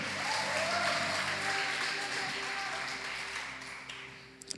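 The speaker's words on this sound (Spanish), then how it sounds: "Dele ese aplauso fuerte a él." A church congregation applauds during a sermon, a broad wash of clapping from a large room that slowly fades, with a faint sustained tone and murmuring voices underneath.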